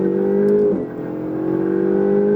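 Ferrari engine held at full throttle on a track, a loud sustained high-revving drone heard close up that dips briefly and then climbs again, with no talking.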